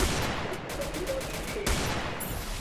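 Rapid automatic gunfire from a shooting video game rattles in a dense, loud continuous burst with a sharper shot near the middle, filling the whole short stretch without audible talk.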